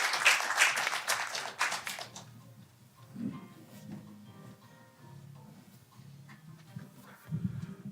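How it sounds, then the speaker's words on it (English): Applause from a conference audience at an international development event bursts out at the start, dense and loud, then fades after about two seconds into quieter room noise with a brief low thump near the end. "Please welcome him with your strong applause."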